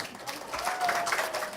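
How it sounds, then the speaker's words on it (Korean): An audience at a university literature concert applauds to welcome a professor to the stage: a faint, diffuse wash of clapping heard from a distance that swells slightly toward the end. "힘찬 박수와 함께 교수님을 무대로 모시겠습니다."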